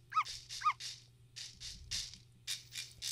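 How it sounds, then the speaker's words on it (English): Small cartoon dogs in a Yoshi video game yip and squeak in quick bursts, two sharp chirps followed by a run of breathy puffs over a low hum. "It's a dog."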